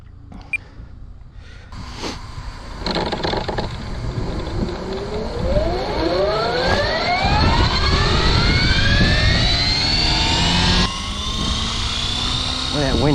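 An Align T-Rex 550X RC helicopter's rotor blades come out of hold and spool up outdoors in wind, a rising mechanical whine and whoosh that climbs in pitch and then holds loud and close.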